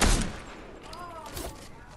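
Gunfire in Fortnite, a sharp burst of shots at the start followed by fainter scattered reports and game sounds over the short stretch.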